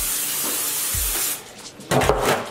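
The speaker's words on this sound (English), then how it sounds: "I'm gonna take my pan and grease it up" Grease is sprayed from a can onto a pizza pan as a steady hiss, followed after a short gap by a second, louder spray burst, close up.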